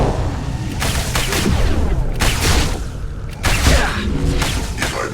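Mass Effect 2 combat gunfire keeps up a dense, loud layer of shots, booms and clatter, with heavier impacts hitting now and then.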